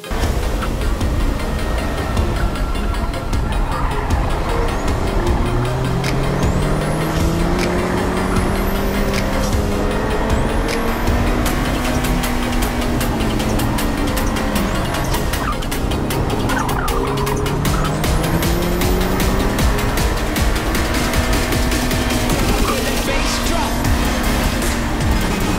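Engines of a Miata and another sports car rise and fall continuously as they accelerate, shift and brake through tight autocross turns, loud and steady throughout with no talking.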